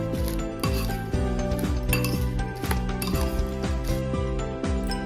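Farali bhel ingredients mixed in a dish with a spoon, producing a steady run of metallic clinks and scrapes against the dish, close and fairly loud, with no talking.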